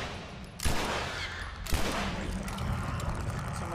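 Two sharp gunshots from The Last of Us Remastered, fired at an enemy, crack out about a second apart over a steady rumbling game background.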